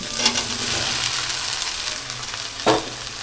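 Soybean chunks fry in a pan for an egg and soybean curry, a steady close hiss of sizzling oil with a couple of brief stirring scrapes, no voices.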